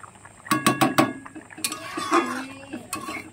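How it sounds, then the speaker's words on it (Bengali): A metal spoon clinks and scrapes against a pan while a tengra fish curry in mustard paste gravy is stirred, with a few quick taps and then softer scraping up close. "এখন আমি তরকারিটা ভালো করে নাড়াচাড়া দিয়ে নেবো।"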